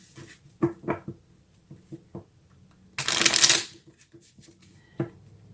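Tarot cards are shuffled in one quick riffle of dense papery flutter lasting about half a second, set among soft scattered taps and card handling at close range.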